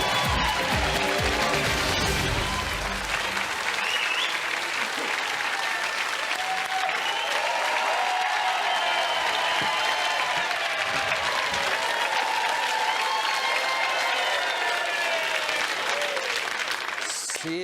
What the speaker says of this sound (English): Save your applause, but it's very welcome.